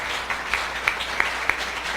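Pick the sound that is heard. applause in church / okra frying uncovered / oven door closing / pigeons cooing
applause in church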